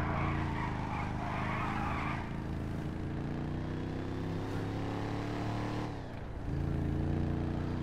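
A car in GTA droning along with a steady engine hum, tires squealing in a long skid that swells and dips near the end, loud and close with no talk.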